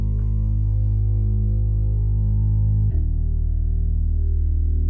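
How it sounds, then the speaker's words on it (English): Long, simple sustained bass note held on the root in a beat intro, loud and droning with a slight distorted buzz, shifting once partway through. "So in the intro, it's this long bass"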